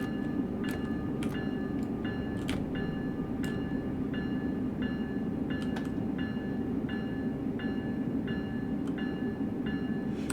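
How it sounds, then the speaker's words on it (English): An NJ Transit train passes in the Train Sim World 4 railway simulator, a steady loud rolling rumble with regular sharp clicks and ringing tones over it, and no talking. "Another NJ Transit train on the other side from us."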